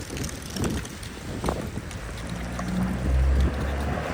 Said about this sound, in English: The wind is crazy today.